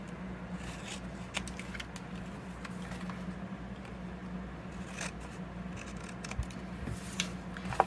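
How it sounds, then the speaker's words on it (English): Scissors snip through paper tabs while crafting a stamped paper box, a few quiet, close cuts over a steady low hum with light rustling and small clicks. "I'm gonna cut our tabs in half"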